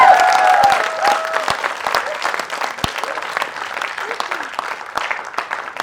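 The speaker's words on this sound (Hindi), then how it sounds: "जोरदार ताली से स्वागत करें।" An audience at a theatre play claps loudly for the cast and director, a dense burst of applause that starts strong and slowly thins out, with a few voices mixed in.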